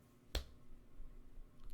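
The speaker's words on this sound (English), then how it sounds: "What does clapping sound like when it's made of bone?" One sharp, dry clap like bone striking bone, a single brief crack that stands alone against a quiet background.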